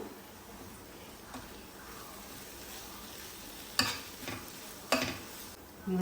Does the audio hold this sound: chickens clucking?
no